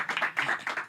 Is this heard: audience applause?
yes